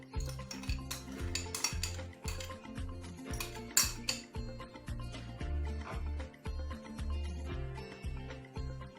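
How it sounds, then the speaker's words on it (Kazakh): A spoon stirs liquid oil into bun dough in a bowl, giving a steady rhythm of clinks and scrapes against the bowl, close and moderately loud, with no talking. "Енді біз қасықтың көмегімен бірінші сұйық май құямыз, одан кейін барып жұмыртқа құятын боламыз."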